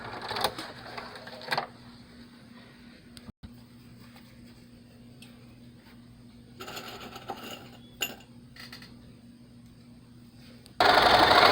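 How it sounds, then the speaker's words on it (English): A sewing machine runs in short bursts and longer stretches, stitching a quarter-inch seam on a fabric face mask with backstitching at start and stop; the whirring is fairly close and quiet between runs, with no talk. "And now I'm stitching the bottom seam, 1/4 inch stitch, back stitching when I start and stop."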